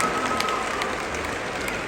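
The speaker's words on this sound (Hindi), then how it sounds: "एक बार सबके लिए जोरदार ताली हो जाए" Audience applause at a Nepali Teej festival gathering in Delhi, a continuous moderate patter of many hands clapping, fairly even and unbroken.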